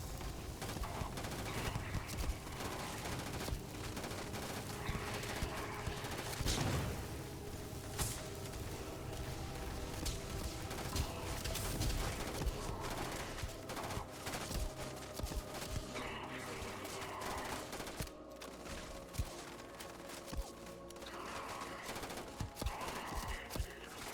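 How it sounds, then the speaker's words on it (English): Dense gunfire rattles almost without pause in the video game Starfield, with rapid bursts and overlapping shots layered over a busy background for a long stretch, and no voices break through. "We're just firing at shadows in the dark."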